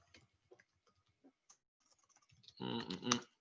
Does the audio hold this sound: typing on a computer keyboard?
yes